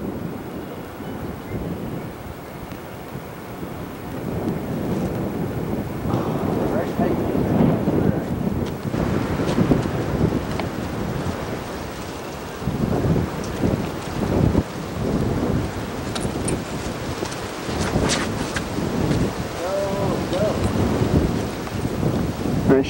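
Strong, cold wind buffets the microphone on a disc golf course at Hudson Mills with a low, rumbling roar that swells and dips throughout, with occasional voices faintly underneath.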